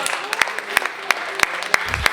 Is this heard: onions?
no